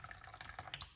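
Moringa tea pours through a strainer into a cup, a faint trickle with small irregular drips and splashes, close but quiet.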